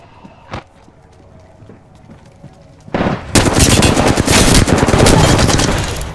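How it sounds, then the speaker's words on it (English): Loud, sustained automatic gunfire from an Apex Legends firefight bursts in after about three seconds of quieter game sounds, rapid shots piling into a dense continuous barrage close up. "Shots fired and they're hitting me."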